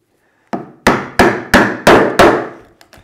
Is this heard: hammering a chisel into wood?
yes